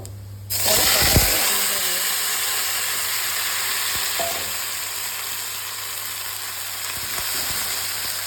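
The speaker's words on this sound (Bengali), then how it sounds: "কালো জিরে দিয়ে এবার আমি কড়াইতে করলাটা ভাজা করে নেব" Bitter gourd frying in oil with nigella seeds in a wok, a loud continuous sizzle and hiss that starts abruptly and holds steady, with a few faint stirring knocks.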